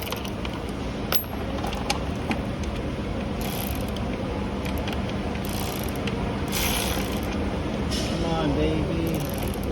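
Ratchet with an extension clicking on the rear valve cover bolts of a 2017 Honda Accord 2.4L Earth Dreams engine, repeated bursts of pawl clicks close by amid steady background noise and some talk.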